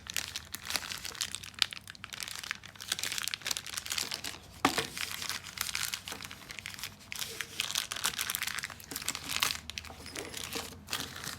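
Close, busy crinkling and crackling of product packaging being worked open by hand for a 12 Bolt crank bolt part for a 1963 C2 Corvette, with intermittent tearing bursts and no talking.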